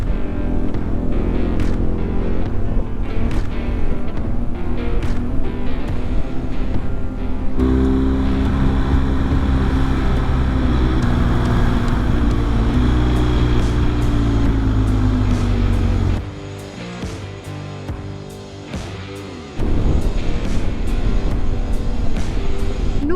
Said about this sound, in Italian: il rombo delle moto che rimbomba